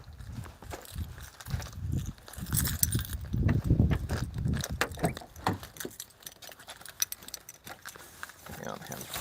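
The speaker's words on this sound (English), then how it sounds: "Now I got 100 sets of keys here." Many sets of keys jangle and clink in handfuls, close and fairly loud, with steady metallic rattling throughout the span, mixed with some shuffling and handling noise.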